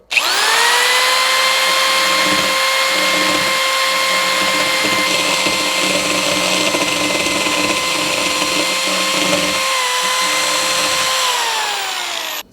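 Power drill spinning a router bit clamped down for a test: a loud, continuous high-pitched whine that holds steady for about ten seconds, then slightly drops in pitch as it winds down.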